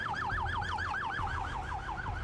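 Ambulance siren wailing continuously in a fast, rising and falling sweep, loud and close over a low rumbling background.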